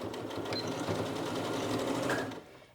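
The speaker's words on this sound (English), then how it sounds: "what I'm going to do is back stitch again to secure my stitch." A sewing machine back stitching a seam on joggers, a steady close mechanical whir of fast needle strokes for a couple of seconds before it stops.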